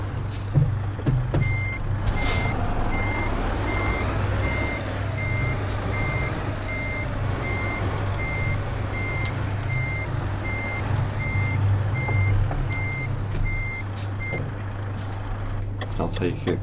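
Truck reversing beeps from a truck driving video game while parking, sounding as a steady, evenly spaced series of beeps that continues for most of the clip over a low, constant engine rumble.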